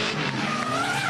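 A drift car at the Nürburgring slides through a corner with a loud, continuous tire squeal over a roaring engine, close and sustained for about a second with no talk.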